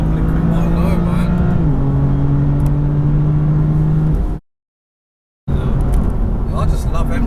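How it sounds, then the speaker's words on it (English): 2017 BMW M4 CS engine pulling hard under acceleration, a loud, steady drone with a gear-change drop in pitch partway, then abruptly cut to silence before resuming. "Wow, that feels properly quick"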